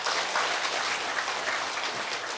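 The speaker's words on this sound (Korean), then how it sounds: "한번 박수 한번 치죠 우리 학교." Steady, dense applause from a crowd at a Saturday Buddhist dharma gathering at a school, an even wash of many hands clapping continuously throughout at moderate volume, with no voices over it.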